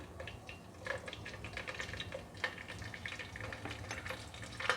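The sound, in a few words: curry leaves and green chillies frying in oil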